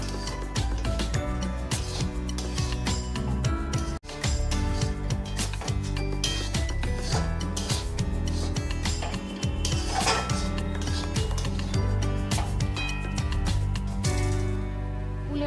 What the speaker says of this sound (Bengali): এবার আমি এই মশলাটা দিয়ে নেব মশলার সাথে আচারটা ভালো করে মিশিয়ে নেব